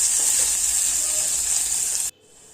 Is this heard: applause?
no